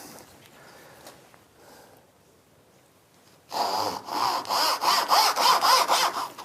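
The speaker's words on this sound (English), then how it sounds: "Trusty Japanese saw." Japanese hand saw cutting wood for through dovetails held in a vise, a quiet start giving way to steady rhythmic rasping strokes, about eight back-and-forth cuts, close and clear.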